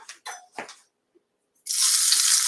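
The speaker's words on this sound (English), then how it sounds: "And you can hear it sizzle" A few clinks and knocks, then a sudden loud hiss as minced vegetables for a broccolini sauce hit hot olive oil and keep sizzling steadily.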